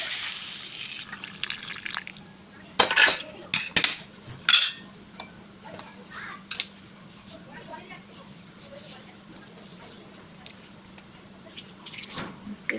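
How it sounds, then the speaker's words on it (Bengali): Water is poured into a pan of fried fish eggs and potatoes, giving a brief splashing rush and clatter of utensils near the start, then a low simmering bubble under quiet kitchen sounds. "ডিম আলু দিয়ে ভালো করে কষে নিয়ে সামান্য পরিমাণে জল দিতে হবে"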